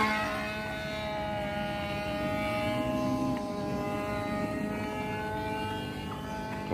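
A small fuel-powered model airplane engine runs steadily at a distance, a thin sustained buzzing drone with faint tonal harmonics and no talk.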